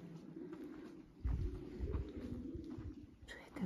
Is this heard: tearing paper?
no